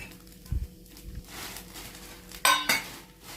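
A utensil clanks and scrapes against a pan as fried squid is stirred into masala. Scattered metallic knocks and a couple of sharp clinks sound close by over a faint sizzle.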